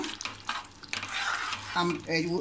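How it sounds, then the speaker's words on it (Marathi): Egg masala gravy bubbles and sizzles in a pan as it is stirred. A steady hiss of frying comes with a few scraping stirs, and a brief voice is heard near the end. "जो मसाला टाकला आहे त्याला छान अशी उकळी आली आहे"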